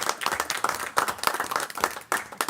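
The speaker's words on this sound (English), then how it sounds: "I don't think I'm alone in offering you a round of applause." Scattered hand clapping in a committee meeting room, a round of applause for a retiring staff member, made of distinct close claps in a loose, uneven rhythm from a small group.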